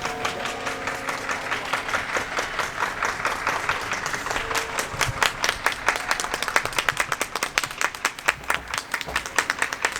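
Evening applause during the coronavirus quarantine in the Netherlands, with many people clapping from surrounding homes at 8 pm, building from scattered distant claps into a dense, rhythmic clatter that grows louder and closer.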